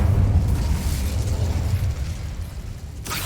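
A fire spell blast from the Hogwarts Legacy video game, a deep rumbling burst that roars loudly at the start, then decays over a few seconds before a short crackling flare at the end, with no speech.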